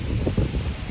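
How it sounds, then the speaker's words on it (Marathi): Wind blows outdoors near a Ganpati temple, low gusty rumbles buffeting the microphone in short irregular surges, fairly loud and without speech. "खूप छान वारा सुटला आहे"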